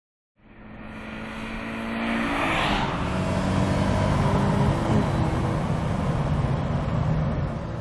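A Scion FR-S sports car starts off and drives, its engine rising quickly into a loud, sustained drone that builds through the first few seconds and then holds steady as it cruises, with no talk.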